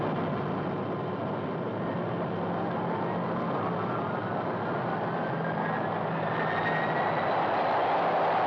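A V-2 rocket launch rumbles as a loud, sustained roar with a slowly rising whine, steady and unbroken throughout, with no voices.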